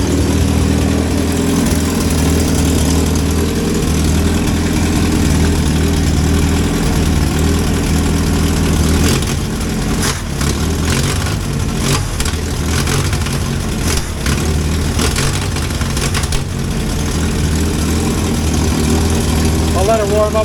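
A freshly installed engine in a 1963 Hillman Super Minx idles steadily for about twenty seconds, a loud, close, low rumble with a few brief clatters and knocks toward the middle.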